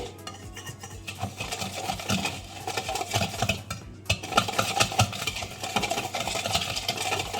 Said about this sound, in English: We mix everything up, whisk it well